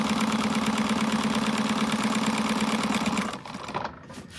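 A sewing machine runs steadily at speed basting the sides of a slouch shoulder bag, a continuous close mechanical hum and rapid stitching rhythm that stops abruptly after about three seconds, followed by faint handling noise.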